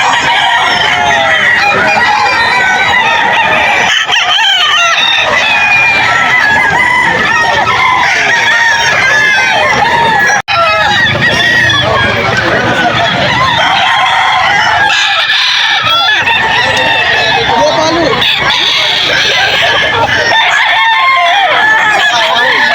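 At a poultry market in Bocaue, Bulacan, roosters and chickens crow and cluck loudly and continuously. The calls overlap in a dense, close chorus, with a few voices faintly mixed in.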